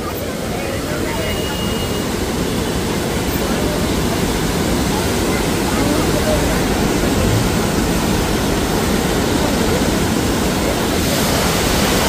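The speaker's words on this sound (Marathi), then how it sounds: "इथं आपल्याला गोदावरी नदीचं रौद्र रूप बघायला मिळतंय" The flooded Godavari river in Nashik after heavy rainfall roars as a loud, continuous broadband rush of water that holds steady throughout with no break.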